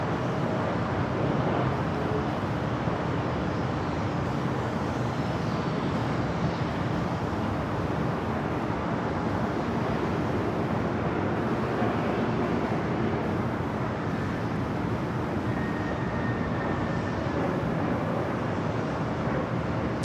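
Airplanes taxiing across runways at LAX airport, a constant broad distant roar of jet engines with a faint rising whine partway through.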